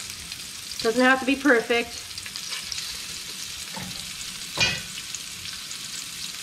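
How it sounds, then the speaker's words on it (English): Half a dozen meatballs brown in a hot pan, a steady low sizzle running throughout, with a woman's brief remark partway through and a couple of light utensil clinks. "maybe 6 meatballs in the pan at a time, because I want the meatballs to get nice and brown"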